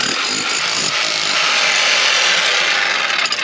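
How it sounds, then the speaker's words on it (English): A loud, continuous rattling roar of a jackhammer digging a tunnel nearby, steady for the whole stretch with no talking. "riding that jackhammer like a pro"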